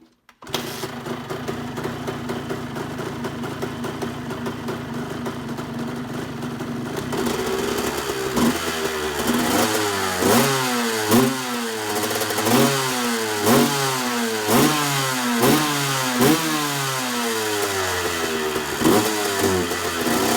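A Honda CR125 two-stroke dirt bike engine runs after a cold start, first a steady, buzzy idle, then loud, rhythmic revving in repeated rising-and-falling blips, close and unbroken by talk.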